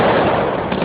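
Fireworks go off at a silver wedding celebration, a dense, loud and continuous crackling roar of bursts that fills the moment without a break.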